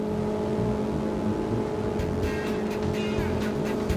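A Selva Flyer 550 Sun Deck boat is driven at top speed by its 40 hp Selva XSR outboard, giving a loud, steady high-revving drone with rushing water and wind gusts over the second half.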